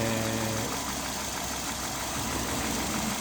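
A 1.6-litre, 110-horsepower car engine runs steadily while the car is driven on the road, a loud, constant rumble with road noise and no talking.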